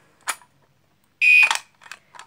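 A fire alarm is tested from a pull station, one loud electronic buzzing tone about a quarter second long followed by short, fainter bursts, with brief clicks before it and quiet gaps between.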